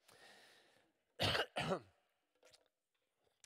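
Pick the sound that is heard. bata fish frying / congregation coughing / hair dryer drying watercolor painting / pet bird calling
congregation coughing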